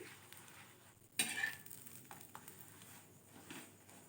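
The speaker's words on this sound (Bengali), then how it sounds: "আবার এটা আমার একটু অল্প করে তেল দিয়ে একটু ভালো করে ভেজে নিয়ে তোমাদেরকে দেখিয়ে দিচ্ছি" A paratha fries in a little oil in a pan, a quiet sizzle with a sudden burst of spattering and a scrape of a utensil, then faint crackles and light taps fading back to a low hiss.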